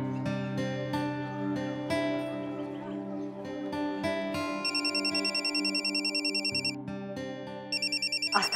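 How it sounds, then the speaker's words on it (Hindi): A telephone rings in a home scene of a Hindi TV drama, a repeated electronic trill cutting in over soft background music, loud and close in short bursts. "आस्था का ही फोन होगा।"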